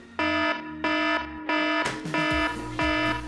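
Alarm ringtone sent in by a subscriber: a loud, bright electronic tone that repeats in five even bursts of about half a second, separated by short gaps, with no talk over it.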